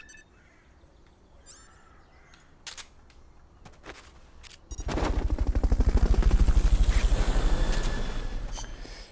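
Fulton recovery helicopter in the video game Metal Gear Solid Peace Walker: a few sparse clicks and blips, then a loud, rapid rotor thumping bursts in, swells to a peak and slowly fades.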